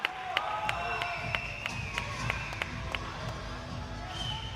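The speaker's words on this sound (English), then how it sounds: "Sri Lankan crowd building up. They are excited." A Sri Lankan crowd at a youth boxing championship bout keeps up a steady roar of cheering and excited voices. Sharp claps and taps punctuate the din throughout, with no single voice standing out.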